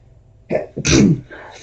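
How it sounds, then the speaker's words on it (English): A single sharp sneeze from a nearby person, a quick inhaled build-up followed by a loud burst, then a faint trailing breath in an otherwise quiet room. "I'm going to sneeze, if that's okay."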